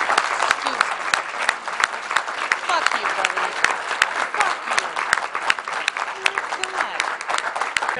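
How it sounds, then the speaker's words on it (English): Audience at a congressional town hall gives a sustained round of applause, many hands clapping with sharp distinct claps close by, continuous throughout. "applause."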